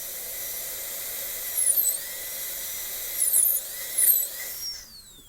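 A dental drill whines steadily while making a depth cut on a tooth during preparation for a porcelain-fused-to-metal crown, rising in three short louder bursts as it bites, then spinning down at the end.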